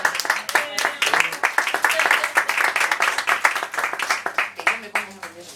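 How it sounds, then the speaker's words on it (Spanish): Dense, steady clapping from an audience, sustained throughout with a slight fade near the end, with voices faintly mixed in. "Un aplauso para Ricardo."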